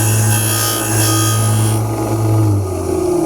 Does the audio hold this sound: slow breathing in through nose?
no